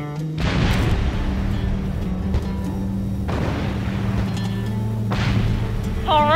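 A helicopter gunship in Ace Combat: Assault Horizon fires on hostile vehicles on a road: heavy booming bursts of gunfire repeat about every two to three seconds over a steady engine drone.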